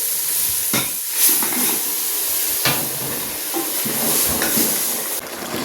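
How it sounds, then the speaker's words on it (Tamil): Mutton tipped into a pot of cooked spices and ground coconut for a curry sets off a loud, steady sizzling hiss that runs throughout, with a few sharper bursts of spitting near the start. "இப்போ தூக்கி கறியை கொட்ட போகிறேன்."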